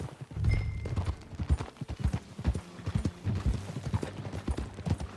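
Horse hooves clip-clop at a steady trotting rhythm while riding in a video game, close and continuous throughout, with a faint tonal background but no talk.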